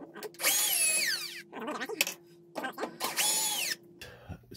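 A power driver whines in two long bursts as it backs Torx screws out of the detergent area of a Whirlpool Duet front-load washer, with softer clicks and handling noise between the runs.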